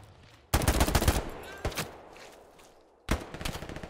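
Gunfire in the World War II video game Hell Let Loose during a defense of Hill 400, with loud, close automatic bursts separated by quieter gaps and a single later volley.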